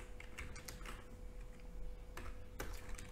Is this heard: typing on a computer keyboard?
yes